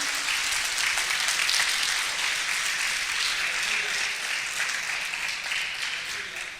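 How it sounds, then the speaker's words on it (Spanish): Congregation applauding for the Lord during a Spanish-language church service, a steady, dense wash of clapping that holds at an even level throughout and thins slightly toward the end. "Dale un aplauso al Señor."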